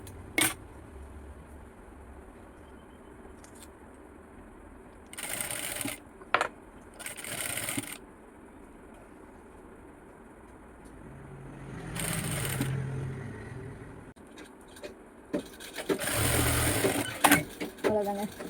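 A sewing machine stitches a blouse, its motor whirring softly in stretches, broken by a few louder bursts of handling and rustling close by, with no talking.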